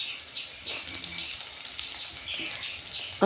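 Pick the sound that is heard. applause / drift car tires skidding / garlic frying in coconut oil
garlic frying in coconut oil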